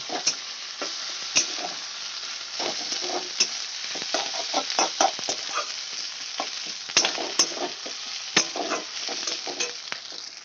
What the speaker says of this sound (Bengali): আদা রসুনের পেস্টটা দিয়ে ভালো করে কষিয়ে নেব যাতে কাঁচা গন্ধটা চলে যায়